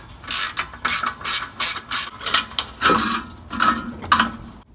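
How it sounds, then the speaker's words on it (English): A ratchet turning a 13mm socket to loosen an exhaust pipe clamp on a Silverado or Sierra, giving about seven quick, crisp clicking bursts in a row up close, then a few slower, duller ratcheting strokes. "I'm going to be using a 13mm socket here"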